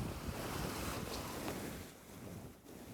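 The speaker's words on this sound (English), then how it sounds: "25 knots of wind" Strong 25-knot wind roars across the microphone while waves surge and slosh around a sailboat off the Mull of Kintyre in Scotland, a loud, rushing, uneven wash that eases slightly near the end.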